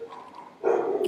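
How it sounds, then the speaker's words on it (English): A single short dog bark sounds at a moderate distance, preceded by a softer faint yelp, with no talking. "My dogs are barking."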